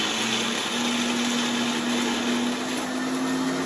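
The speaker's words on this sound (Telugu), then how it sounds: "దీన్ని ఇప్పుడు మిక్సీ జార్ని తీసుకెళ్ళి మిక్సీ పట్టాలి" A mixer grinder runs continuously grinding brinjal chutney, a loud steady motor whine with a constant hum and no pauses.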